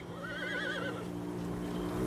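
A horse whinnies in a rising and falling neigh over a steady low hum, in a mountain setting on the way toward high Tibetan passes; a single call early on, then a quieter, dull background.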